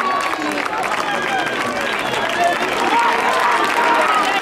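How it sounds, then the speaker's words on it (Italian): Crowd applause and cheering at a road roller skating race, a junior women's 10,000 m points final, a broad sustained clapping roar that is loud and continuous, with an announcer talking over it. "vogliamo sentire il più grande applauso della giornata per le junior femmine."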